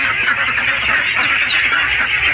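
A large mixed flock of ducks quacks loudly and continuously at close range, the calls blending into a dense, unbroken chorus.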